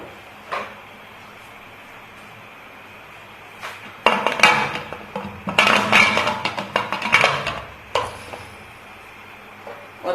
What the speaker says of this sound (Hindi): और कुकर का ढक्कन बंद कर दूंगी।